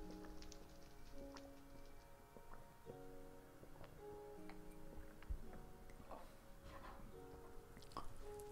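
Rain falls in Minecraft on PS3 as faint, steady patter with scattered drips, under a quiet background tone and occasional soft taps.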